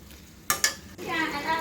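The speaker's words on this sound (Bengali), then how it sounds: "এই তো সবজিটা ভেজে নিচ্ছি।" Home-grown vegetables fried and stirred in a pan, giving two sharp scraping stirs followed by a steady, close sizzle that swells toward the end, with no talking.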